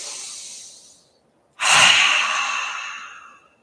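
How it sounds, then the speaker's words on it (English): A deep inhale during a yoga practice: one soft breath fades out, then after a short pause a loud, close, airy intake of breath swells and slowly tapers, with no talking. "Big, deep breath in."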